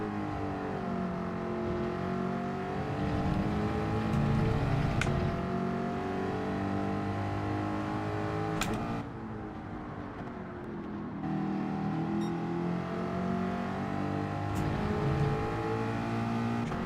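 A Ford Mustang Group 4 race car engine at Brands Hatch GP in Gran Turismo 7 holds a steady, loud droning roar, with gear changes and rises and dips in pitch as it accelerates through the race.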